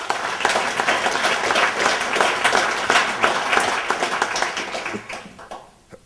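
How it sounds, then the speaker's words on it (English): An audience claps during a keynote address, producing dense, sustained applause that holds steady at full strength before thinning out and fading away near the end. "Again, I would like to give them a round of applause."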